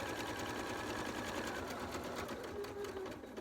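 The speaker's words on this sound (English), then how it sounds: "just top stitch all the way round" A sewing machine runs steadily at a longer stitch length, top stitching a quarter inch from the edge around a Christmas project, its continuous whirring motor close and alone without pause.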